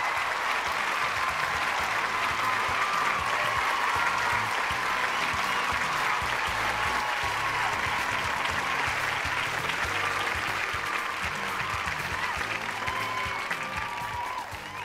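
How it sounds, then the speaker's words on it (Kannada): Studio audience applause at a televised Kannada talk-show courtroom program, a dense, steady wash of many hands clapping that fills the room continuously and fades only slightly at the very end. "ನಿಮ್ಮ ಚಪ್ಪಾಳೆ ಹೀಗೆ ಇರಲಿ"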